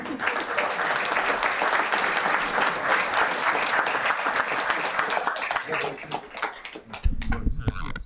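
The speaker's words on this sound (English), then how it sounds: "Another round of applause for our children." A town council meeting audience gives a round of applause for children, a loud, dense spray of clapping from many people lasting several seconds, with voices emerging as it fades near the end.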